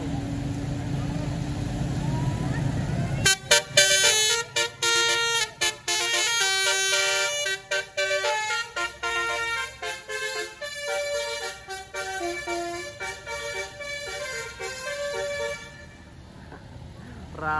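Telolet musical horns from large tour buses on the Pangandaran road, a loud rapid run of melodic honks in repeated bursts after a few seconds of rumbling traffic, with voices and road noise underneath.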